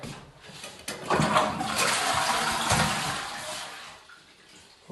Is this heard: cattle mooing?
no